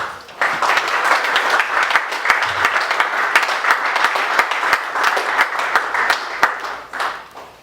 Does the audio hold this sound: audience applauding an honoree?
yes